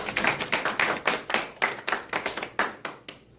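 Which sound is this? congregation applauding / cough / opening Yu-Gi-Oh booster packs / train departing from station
congregation applauding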